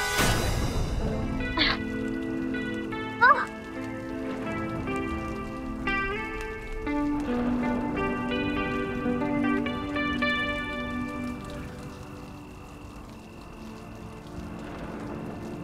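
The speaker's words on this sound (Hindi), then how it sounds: "बारिश हो रही है" Steady rain pours through the night around people stranded beside a car, a broad soft hiss that stays constant throughout beneath a background music score.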